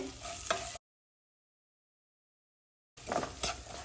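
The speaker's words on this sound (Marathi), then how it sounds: "एक मिडियम साईज कांदा बारीक चिरून घेतलाय तो घालते" Finely chopped onion goes into hot oil seasoned with cumin, asafoetida, chili and turmeric, giving a close, steady sizzle with stirring, cut by a long silent gap before the frying resumes.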